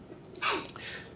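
A single short sneeze bursts out indoors during a lecture on variance and standard deviation, moderately close and brief, with a faint quiet room around it.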